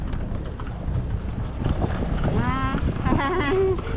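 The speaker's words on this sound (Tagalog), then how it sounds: "Experience namin sumakay ng kalesa." Horse hooves clip-clop as a kalesa carriage rolls along, a steady rhythm close by with wind buffeting the microphone and people chattering over it.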